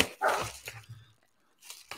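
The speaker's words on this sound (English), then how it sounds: "Angry puppy dog." A dog barking nearby, a couple of short sharp barks at the start followed by quieter whines, then a brief pause and one more faint bark.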